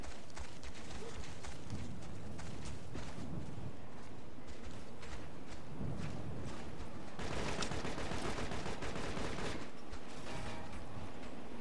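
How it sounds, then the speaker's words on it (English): A firefight in Operation Flashpoint: Red River, with dense rattling bursts of rifle and machine-gun fire going on continuously and loudly for the whole stretch, some bursts sharper and nearer, with no voices. "We're under fire!"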